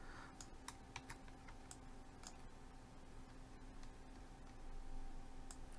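Scattered keyboard shortcut presses while working in 3D modeling software on a dice model, sparse crisp clicks over a steady electrical hum, quiet and near, with no talking.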